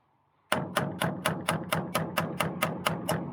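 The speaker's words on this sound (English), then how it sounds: "me just hammering fruitlessly into a piece of wood that doesn't want to accept a nail" A hammer strikes a nail into a piece of wood that resists it, with about twelve sharp, evenly spaced blows landing at a steady, quick rhythm, loud and close, with nothing else heard.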